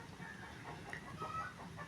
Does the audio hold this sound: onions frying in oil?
no